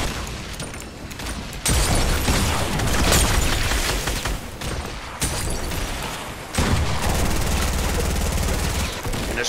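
Bursts of loud gunfire, including shotgun blasts, and booming blasts in a video game come in waves, with brief quieter gaps between them and faint voices underneath.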